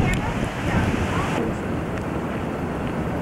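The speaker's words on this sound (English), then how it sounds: "it's just a little windy out here today" Steady, loud wind blows outdoors, buffeting the microphone with a constant rough roar that lasts throughout.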